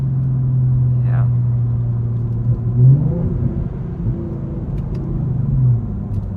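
Ford Mustang 2015 3.7-litre 224 kW V6 engine under way, a steady low drone with a brief rise in revs, heard from inside the car.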